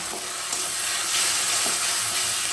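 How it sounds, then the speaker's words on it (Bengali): Chopped onion, tomato, salt, turmeric, ginger and garlic paste sizzle steadily while being stirred in a hot pan, a close, even frying hiss with occasional scraping, no talking. "এবার ভালো করে কষিয়ে নেব।"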